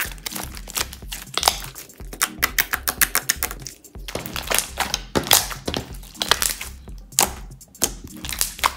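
Slime is squished and kneaded with activator by hand, close up, giving a dense run of wet clicks, crackles and squelchy pops in uneven bursts with no talking.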